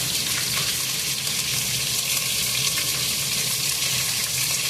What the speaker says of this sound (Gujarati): અને મરચાં એમાં કાપેલા નાખી દઈશું।